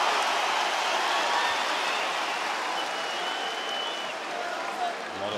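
Crowd noise fills an MMA arena at an OKTAGON fight, a steady, loud roar of cheering and clapping that holds throughout with little change.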